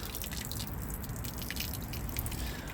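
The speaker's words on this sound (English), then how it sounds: "You can see all of our water draining out here" Water drains from the water system of a 2017 Coachman Wanderer 19/4 TB caravan, a quiet continuous trickle and drip running steadily throughout with no talking.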